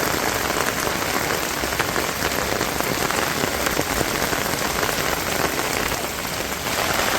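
Rain pours down on a flat concrete rooftop where water has pooled, making a dense, even hiss of countless drops that stays loud and unbroken throughout, with no voices.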